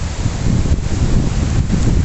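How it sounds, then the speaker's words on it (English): Strong gusting wind buffets the microphone at Seaforth Beach with a deep, rumbling roar, steady and close, with no voices. "It's a bit windy, so I hope the sound's okay."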